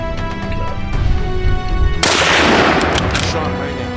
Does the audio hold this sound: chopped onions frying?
no